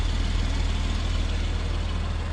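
A 2014 Porsche 911 Carrera 991.1 coupe with PDK gearbox and direct-injection flat-six idling, a deep, steady rhythmic rumble held at constant loudness, close and alone without voices.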